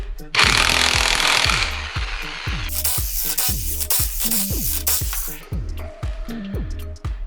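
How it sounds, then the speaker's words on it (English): Pneumatic impact wrench driving a chrome socket during an engine install on an MK4 Jetta wagon with a big-turbo 1.8T: a loud continuous hammering rattle, close and sustained for several seconds, easing off in short bursts toward the end. "Impacting with a chrome socket, you like that?"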